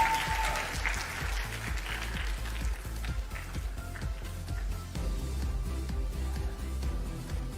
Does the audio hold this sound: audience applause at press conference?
yes